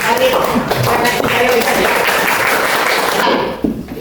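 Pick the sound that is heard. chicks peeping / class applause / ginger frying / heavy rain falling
class applause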